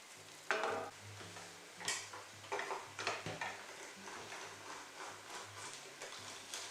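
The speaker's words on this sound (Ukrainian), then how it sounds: "Продовжую тушкувати." Apples stewing in a pan for an apple confiture, a soft continuous sizzle with irregular scraping and stirring clicks, faint and close, with no talking.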